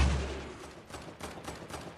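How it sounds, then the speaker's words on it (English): Video game gunfire crackling in several quick bursts at moderate distance, the shots spaced unevenly across the moment. "Oh, I'm being shot at from..."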